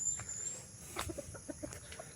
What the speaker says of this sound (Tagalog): tapos na po natin napakain yung alagang manok natin